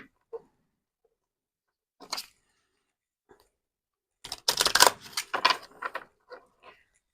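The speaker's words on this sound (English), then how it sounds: "Now, I've shuffled these in all different manners of ways." Oracle cards being shuffled by hand, giving brief scattered flicks and then a denser run of papery riffling and slapping clicks, close and fairly quiet, with no talking.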